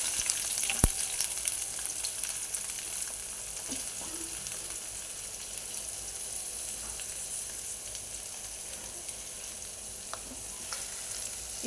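Onions, garlic and green chillies sizzle in hot oil in a pan, a steady crackling fry with occasional stirring clinks, close and alone without speech.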